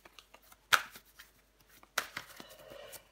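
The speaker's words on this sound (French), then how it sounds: "Je vais recouvrir des cartes, parce que c'est une possibilité." Tarot cards are handled and laid out on a table, a faint close sequence of soft slaps and slides with two sharper card snaps and light rustling between them.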